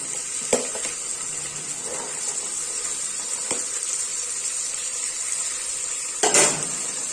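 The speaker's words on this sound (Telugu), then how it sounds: "ఈ బీన్స్ ముక్కల్ని ఈ ఆనియన్ ఆయిల్లోకి వేసేసుకున్నాం" Chopped green beans fry in onion-flavoured oil in a pan, a steady bright sizzle throughout broken by a few sharp utensil clinks and a short stirring scrape near the end.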